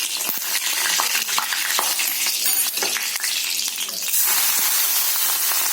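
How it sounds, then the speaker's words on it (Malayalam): Mustard seeds and fenugreek seeds frying in hot oil, a dense crackling sizzle with sharp popping bursts, loud and close, brightening near the end. "എണ്ണ ചൂടാകുമ്പോൾ കുറച്ച് കടുകിടാം. കടുകിനോടൊപ്പം കുറച്ച് ഉലുവയും എടുത്തു."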